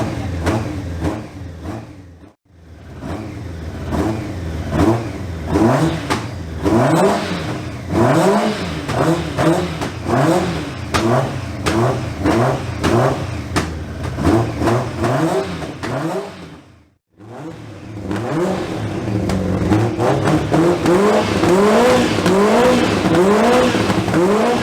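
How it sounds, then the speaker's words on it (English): Inline-four superbike engine, warmed up after six months of sitting unused, revved repeatedly in quick rising and falling bursts, loud and close, with two brief pauses before more rapid blips at high revs. "I hope you all enjoyed the sound of an inline 4 superbike"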